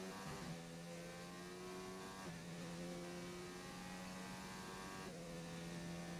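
A Haas Formula 1 car's engine screams at high revs around the Monza circuit in the F1 2019 racing game, a steady tonal whine that drops and climbs at two gear shifts, heard without talk.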